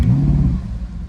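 A Ferrari California T engine starts up with a loud, close, deep rumble that settles into a steady idle, heard alone without speech.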